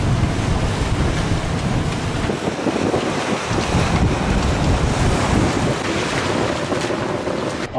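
Waves and strong wind rush steadily around a sailing boat crossing the Dominica channel in the Caribbean, with beam seas in 18–22 knot crosswinds; dense, continuous roar with surging water and microphone wind buffeting throughout.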